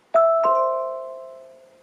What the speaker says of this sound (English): The video doorbell also supports HomePod chimes